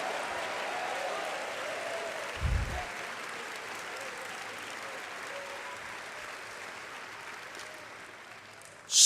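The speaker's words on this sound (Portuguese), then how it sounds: "E dê-lhe um lindo louvor com palmas fortes, amado." Strong, sustained clapping from a church congregation during a Sunday night service, dense and even throughout, with a brief low thump partway and a sharp noise at the very end.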